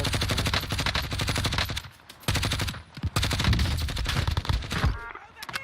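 Rapid gunfire from the video game Call of Duty: Modern Warfare II (Warzone 2 multiplayer) crackles in loud, dense bursts, with short gaps between volleys, up close.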